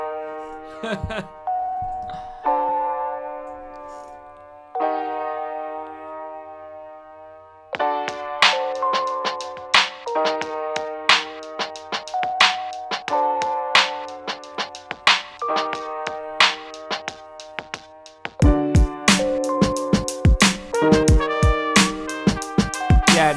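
A melodic beat plays back in Ableton Live with a vinyl effect applied, bright plucked tones in repeating patterns that thicken into fuller sections with sharp percussive hits, with a person talking briefly over it.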